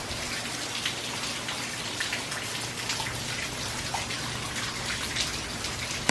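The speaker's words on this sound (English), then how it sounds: "It's just really badly raining" Heavy rain from Hurricane Irma in Kissimmee, Florida pours steadily, a dense, continuous hiss of drops hitting surfaces nearby, with no voices.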